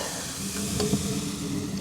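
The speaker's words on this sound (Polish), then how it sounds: "I wylewamy naszego pierwszego naleśnika." Crepe batter hits a hot pan with a steady, close sizzle and faint crackle, and there is no talking.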